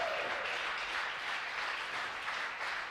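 A crowd cheers and applauds after a rocket stage separates during a live launch to the International Space Station, a steady, dense wash of clapping and cheering that holds for the whole stretch without letup.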